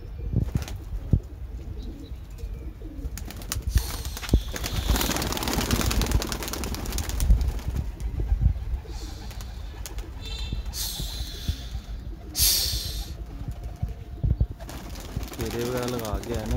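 Sialkot female pigeon cooing in a loft, soft repeated coos mixed with occasional wing flaps and other birds, with background activity throughout.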